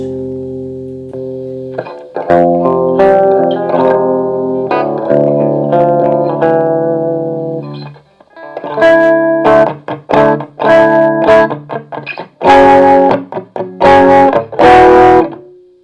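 Electric guitar through a Blackstar HT Stage 100 head with the voice switch engaged plays sustained chords, then shifts to choppy, rhythmic stabs, loud and slightly driven.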